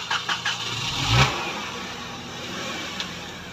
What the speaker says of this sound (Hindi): सीएनजी पे स्टार्ट हो गई।